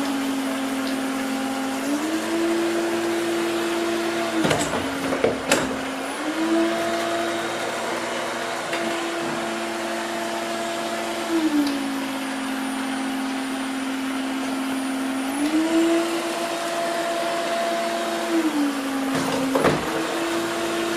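A Midea M7 Pro robot vacuum cleaner running, a steady whirring motor hum that shifts up and down in pitch every few seconds, with occasional bumps and clicks as it moves about, close by and without talk.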